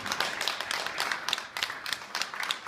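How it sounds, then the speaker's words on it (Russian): Festival audience applauding partners and sponsors, a steady patter of many hands clapping in a hall, even and moderately loud. "И ваши аплодисменты нашим партнерам и спонсорам."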